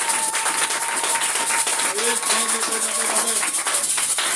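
A church congregation claps steadily and loudly throughout, a continuous wash of applause with voices rising over it.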